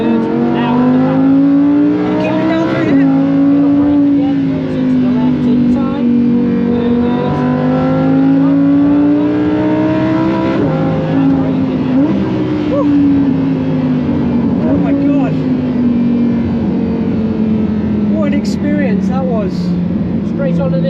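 A 1000 hp Ferrari SF90 Stradale pulls up the Goodwood hill climb, its engine note climbing in long rising sweeps between shifts, loud and close inside the car while people talk throughout.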